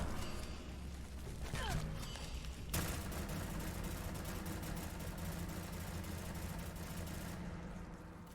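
A blowback gun fires rapidly in the Fallout 4 game, giving a sustained stream of dense, clattering shots over a low rumble, with an abrupt loud burst near the start of the full-auto run. No voices are heard.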